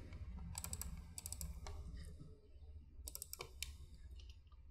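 Computer mouse clicking while drawing in Rhino 3D software for jewelry modeling: several close, crisp clicks in short bursts at a desk, with no talk.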